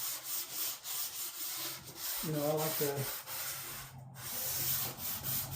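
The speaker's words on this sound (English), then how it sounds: "my sanding block here and just go right down the edges and knock that sharp edge off" Steady rasping strokes of a hand sanding block rubbing along wood, close up, with a brief spoken phrase in the middle.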